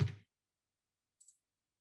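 A computer mouse clicks a calculate button in a simple GUI program: two quick, soft clicks in near silence after a brief low sound at the start.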